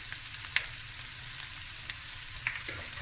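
Shredded cabbage and cooked basmati rice sizzle steadily in a hot pan for Cape Malay cabbage fried rice, a continuous frying hiss with a few faint clinks, no talking.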